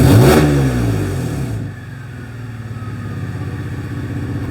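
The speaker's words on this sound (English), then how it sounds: "Rev it up a little bit." An engine is revved once during a diagnostic scan tool check: a loud rising roar that drops back to a steady, lumpy idle rumble close by.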